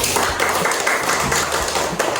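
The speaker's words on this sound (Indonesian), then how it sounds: "Beri tepuk tangan untuk kelompok terakhir" Pupils in a third-grade classroom clap for the last group, a dense and steady patter of many hands that carries loudly throughout.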